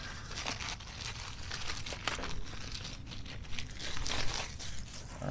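A plastic bag holding a GoPro Hero 8 bundle is crinkled and torn open by hand, with bursts of close rustling and crackling of varying loudness and no talk.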